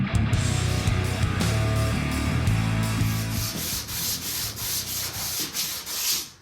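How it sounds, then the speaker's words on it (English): Polyester primer being hand-sanded on a complex-shaped car body panel, a close abrasive rubbing that starts steady then breaks into repeated back-and-forth strokes, with no talking. "So this is kind of a complex shape to actually sand out."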